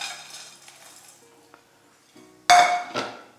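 Roasted dry fruits are tipped into a golden paste in a pan over low heat, with soft scraping followed by a loud clatter of nuts and a metal clink near the end.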